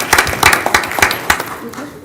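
Scattered clapping for a local bowling team at a city council meeting, brief and uneven over about two seconds, with a handful of hands rather than a full room and murmured voices mixed in.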